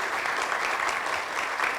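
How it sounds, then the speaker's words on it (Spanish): A final round of applause for a presentation at a strategy studies conversation event, a continuous, even clatter of many hands without any talk. "te damos este aplauso final para tu presentación"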